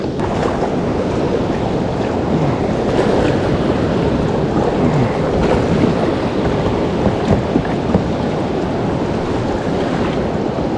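A fishing boat pushes through choppy waves in a fast river current below a large waterfall, with constant loud rushing water and wind buffeting the microphone and no talk.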